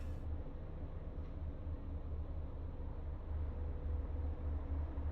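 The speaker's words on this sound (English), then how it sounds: "I'm in the train. I assume I'm in the train." A continuous low rumble of a train ride plays as background ambience in the video game Until Then, steady and even, with a dull rolling drone and no other distinct events.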